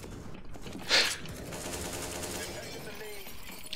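Rapid Tech-9 pistol fire in Counter-Strike: Global Offensive deathmatch against bots, one loud burst near the start amid steady game noise, with a voice talking over it.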